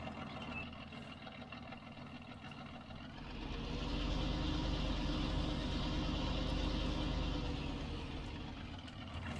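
Truck engine idling in the Farming Simulator 19 game, a low steady rumble that swells louder partway through and then holds a constant drone with no talk.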